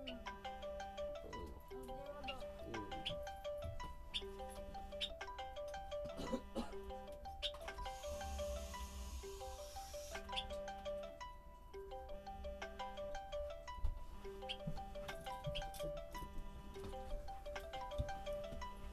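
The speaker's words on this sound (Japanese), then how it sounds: "クレームの電話が来るぞ。" A telephone ringtone plays as a repeating melodic chime pattern, steady and moderately loud, continuing for the whole stretch with some faint background noise.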